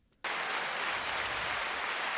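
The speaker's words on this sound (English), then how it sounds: "What do we want? Clap." Dense studio applause sound effect kicking in abruptly after a short silence, a steady, bright wash of many hands clapping at even loudness with no voices.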